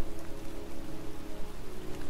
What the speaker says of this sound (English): here I am, standing in a cemetery, pouring rain, looking for the grave of a kid who's been dead for 30 years